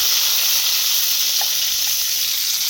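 Pieces of pointed gourd (potol) frying in hot oil: a loud, continuous close-up sizzle with a steady hiss and a few faint pops, with no voices.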